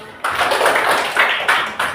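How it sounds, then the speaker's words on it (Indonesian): Children in a classroom clap together in bursts of brisk, fairly loud applause, the rattle surging and easing over about two seconds after a short quiet start. "Beri tepuk tangan untuk kita semua"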